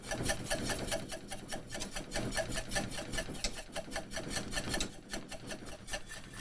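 Whisk scrapes quickly and rhythmically against a pan of thickening turkey gravy, a close, quiet, continuous rasping stroke pattern with no talk.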